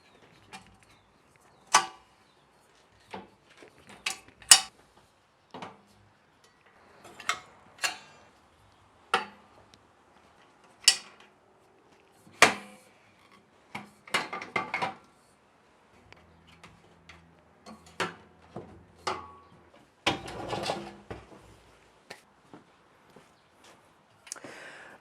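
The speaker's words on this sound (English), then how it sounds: "collapsing or folding down the legs is also fairly straightforward" The legs of a Kress KU059 clamping sawhorse get folded down, giving a series of sharp, separate clicks, clacks and knocks, close and spaced irregularly, with one longer rattling clatter near the end.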